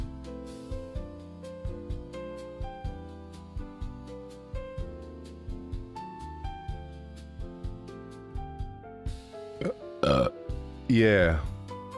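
A person gives a couple of gurgling, rising burps near the end, coming right after steady background music with a regular beat.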